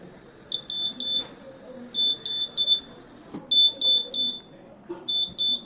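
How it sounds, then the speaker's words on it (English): ProElite piped gas leakage detector alarm sounding after gas is released near a pipe gas connection: loud, high-pitched electronic beeps in repeated groups of three, with short pauses between bursts and a little background noise. "So it will keep alarming till the concentration of the gas is below the explosive limit."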